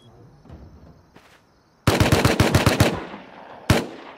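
Video game machine gun fire rips out in a rapid close burst of about ten shots, followed by one more sharp shot after a short pause; a faint quiet voice comes before the shooting.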